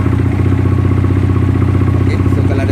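SYM VF3i motorcycle engine idling right after starting, fitted with a new throttle position sensor, a close, loud, steady rhythmic putter with a slight clattery edge and no talking.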